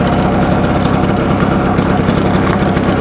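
A vintage motorcycle engine runs close and loud with a steady, dense rumble throughout, with no clear change in pitch and no voices.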